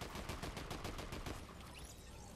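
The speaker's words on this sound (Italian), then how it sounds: "Qualcuno mi sta sparando con non so cosa." Gunfire in Fortnite, a rapid burst of repeated shots for about a second and a half, then fading into quieter scattered noise, fairly distant and soft.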